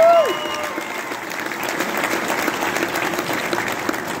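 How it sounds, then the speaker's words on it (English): A crowd at a political meet and greet in Winnipeg bursts into sustained applause, dense clapping that holds steady for several seconds with a few voices mixed in. "you can give him a round of applause."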